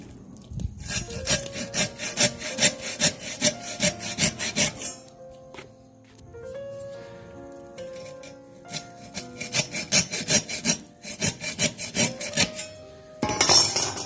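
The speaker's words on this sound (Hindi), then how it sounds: "अब इस फैन के ये तार जो हैं जले हुए हैं, अब इसको हम हेक्सा ब्लेड से काट के निकाल देंगे बाहर।" Hacksaw blade cutting through the burnt copper wires of a fan motor, steady rhythmic back-and-forth strokes in several bursts with short pauses, close and fairly quiet, no talking.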